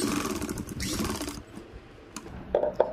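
A sewing machine runs in a steady mechanical burst for over a second while stitching piping onto the lower fabric of a neckline, followed by a few faint clicks and handling sounds.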